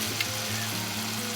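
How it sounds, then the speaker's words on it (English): A burger patty fries in a pan, a steady close hiss and crackle of sizzling fat with a low fluctuating hum running beneath it, no voices. "Now we're just going to wait for this burger to cook."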